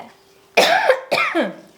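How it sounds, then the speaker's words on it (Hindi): Two harsh coughs in quick succession, close and fairly loud, with a short pause between them. "अच्छा कहे ना रहूंगा कहीं खांसी होत बा अम्मा?"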